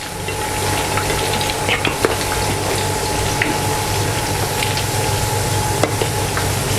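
Thong Suk meatballs from Chiang Mai deep-frying in hot oil, a steady close bubbling sizzle with scattered crackles and pops, no talking.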